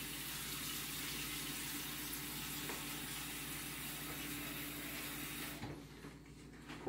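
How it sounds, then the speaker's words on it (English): Tap water from a kitchen sink pours into a cholent pot already holding vegetable oil, a steady rushing, hissing flow that runs for several seconds and then stops abruptly near the end. "I'm gonna add some water."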